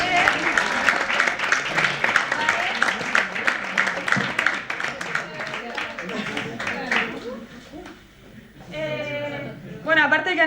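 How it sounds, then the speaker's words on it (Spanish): A workshop audience at an inclusive-education congress claps for the participants, dense applause filling the first seven seconds before fading, then mixed voices and chatter rise near the end. "un aplauso a los participantes."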